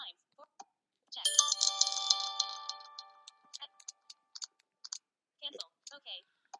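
A phone notification tone called Chimes rings out as a bright cluster of bell-like tones that lingers for about two seconds, followed by scattered soft clicks and brief speech fragments from a screen reader.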